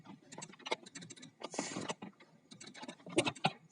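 Computer keyboard keys being tapped out in quick, irregular bursts while a command is typed, close and fairly quiet, with short pauses between clusters of clicks.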